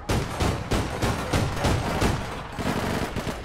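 Rapid gunfire in the APB Reloaded online shooter, a loud, close stream of repeated shots in uneven bursts running through the whole stretch with no talk over it.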